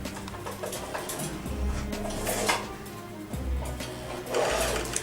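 A sewing machine winds thread onto its bobbin, giving a continuous mechanical whir with light clicks and rattles. It is steady and close, with no voices.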